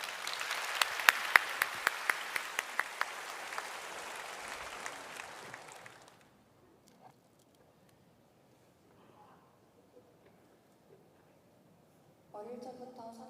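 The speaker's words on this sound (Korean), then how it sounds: "나오실 때 우리 박수로 맞이해 주시기를 바랍니다" Church congregation applauding to welcome a deacon coming forward to give a mission testimony at a Sunday service, a dense burst of clapping for about six seconds that fades to quiet before a voice begins speaking.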